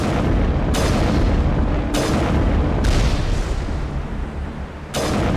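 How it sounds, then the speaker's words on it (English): A turret in the video game Mass Effect is fired on and blown up, heard as a series of four heavy booming blasts over a loud continuous rumble of combat noise, with no speech. "Okay, I guess we're shooting at the turret."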